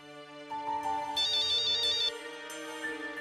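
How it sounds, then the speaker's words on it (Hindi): A mobile phone plays a melodic electronic ringtone, loud and alone, its bright repeating tones changing phrase midway and continuing to ring. "तुम्हारा फोन है।"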